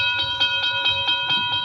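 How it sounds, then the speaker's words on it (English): A radio-drama effect of a train passing a sleepy railway junction near the Oklahoma border, with rapid, evenly spaced metallic pulses over a sustained ringing tone, close and steady. "I stopped the car at a sleepy little junction just across the border into Oklahoma to let a train pass by."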